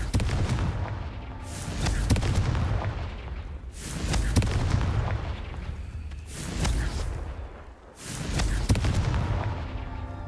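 Confringo blasting spell in the Hogwarts Legacy video game, bursting in four loud, booming explosions spaced about two seconds apart, each with a rumbling tail and no talk over it.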